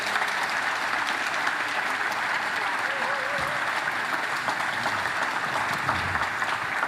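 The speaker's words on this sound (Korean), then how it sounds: "크게 박수 한번 부탁드립니다" An audience in the South Korean National Assembly applauds citizens who confronted martial-law troops. The loud, dense clapping holds steady for seven seconds, close and continuous, with a faint murmur of voices underneath.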